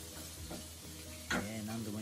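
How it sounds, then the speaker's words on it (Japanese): Fried rice stirred with a heavy 1.5 kg stirring rod in a 7 kg pan, a steady sizzle with scraping stir strokes and one sharper clatter partway through, close and fairly quiet. "チャーハンを攪拌しております。"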